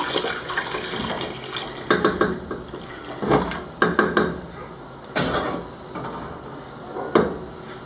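Water runs and splashes into a cooking pot for white beans in sauce, coming in bursts with close clanks and knocks of the pot between pours, heard alone with no voice.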